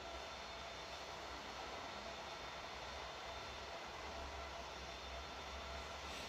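A Boeing 737 MAX 8 in Southwest Airlines livery taxis toward runway 32 at Sarasota Bradenton in the Infinite Flight simulator, its engines giving a steady, even broadband whoosh and low rumble throughout with no voices.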